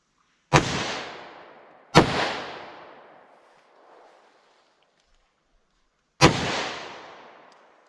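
Three loud gunshots from a Glock 41 pistol converted to 10mm, firing Hornady Custom 180 grain XTP rounds, each a sharp blast with a long echoing decay; the first two come close together, the third after a pause.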